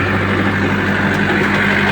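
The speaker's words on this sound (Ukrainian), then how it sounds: "Трактор" A Lovol 454 tractor engine runs at a steady idle, a loud, continuous low droning hum with even harmonic tones and no variation.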